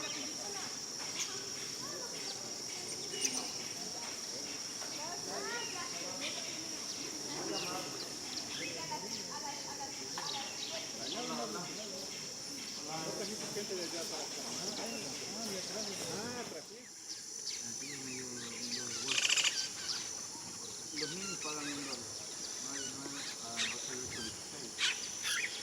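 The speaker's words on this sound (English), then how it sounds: "It's really the perfect spot to enjoy the sounds of the jungle and relax for a while." Humid rainforest ambience in the Ecuadorian Amazon near a jungle lodge: a steady high insect drone runs throughout, with scattered bird calls and chirps, and soft voices murmur at times in the background.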